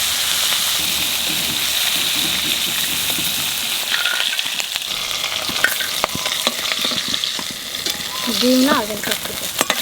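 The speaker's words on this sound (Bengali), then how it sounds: "এখানে মাছের লবণ আর হলুদ মাখাইয়ে বাজিয়ে নেব" Tengra fish coated in salt and turmeric frying in oil in a pan: a close, steady sizzle with scattered crackles and stirring knocks, brief words spoken, and a faint voice toward the end.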